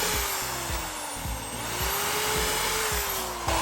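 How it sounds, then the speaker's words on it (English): A power drill boring a pilot hole through a wooden car hauler trailer deck into the metal frame below, a steady whining motor hum with a repeating rhythmic chatter throughout, close and continuous. "I'm going to drill my pilot hole until I can feel the metal"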